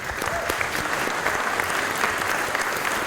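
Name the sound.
audience applause after a speech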